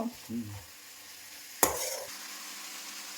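Food sizzles and is stirred in a pan in a home kitchen, with a soft, steady frying hiss, light scraping at the start and one sharp clatter midway.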